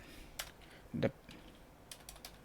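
Keys clatter on a computer keyboard during design work, a sparse run of soft close taps with one louder burst in the middle, low-level and mostly alone.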